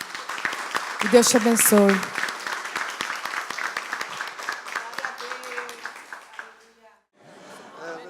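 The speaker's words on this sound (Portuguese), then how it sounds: "Então dê um forte aplauso ao Senhor" A church congregation gives a strong round of applause to the Lord during a Portuguese-language service. The clapping is fairly loud under a speaking voice, then thins out and stops, with a short burst of talk after.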